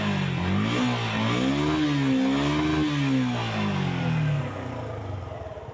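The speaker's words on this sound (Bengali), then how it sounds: "বাইকটি স্টার্ট অবস্থায় আছে সাউন্ড দেখতে পাচ্ছেন একেবারে সুপার ফ্রেশ এবং নতুন সাউন্ড" A Suzuki-style SF FI ABS motorcycle idles after starting, its engine tone rising and falling through a couple of gentle revs before settling lower near the end, heard close and alone.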